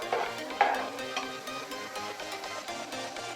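Sambar masala is stirred and mixed in a pan with semolina and yogurt, soft scraping and clinks of a spoon over a faint sizzle, one sharper knock early on.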